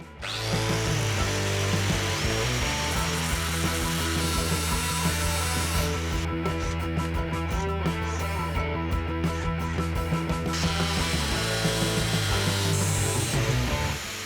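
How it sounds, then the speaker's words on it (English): An angle grinder cuts the hex head off a spinning steel bolt, a loud, steady whining grind with a dense metallic rasp that holds for the full stretch, close and continuous, no speech. "I'm just going to stick the grinder up to it, pull the trigger and just take the hex off the end of this bolt"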